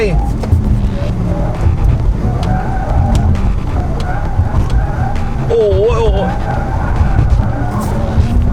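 A Porsche Taycan in Sport Plus mode corners hard, its electric motor whining in rising and falling tones over loud road and tire roar, with a brief squeal mid-turn and a man exclaiming close by.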